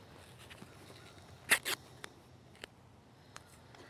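Athletic tape is pulled and unrolled for an ankle wrap, giving a quick pair of ripping zips amid faint ticks and rustles in a quiet room.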